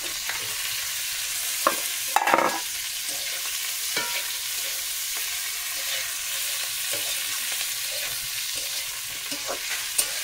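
Fish frying with green chillies in a pan, a steady soft sizzle with occasional louder stirring scrapes and clatters, close and continuous with no talk.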